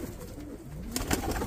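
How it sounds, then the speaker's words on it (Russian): Pigeons coo close by, soft low warbling calls over a steady background hum, followed by a few brief rustling flaps near the end. "Тут еще какие-то голуби"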